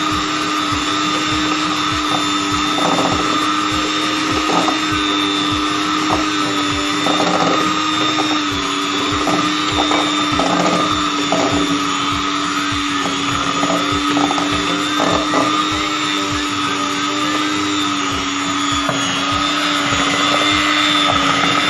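A mixer creams butter and powdered sugar for a chocolate cake, producing a loud, continuous motor whir with a faint rhythmic knocking of beaters against the bowl. It runs steadily from start to finish without talk.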